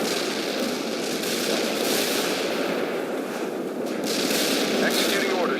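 Sustained gunfire and artillery fire from the World in Conflict video game, a dense continuous rattle of shots and blasts filling the whole stretch at steady loudness, with a few sharper reports standing out near the end.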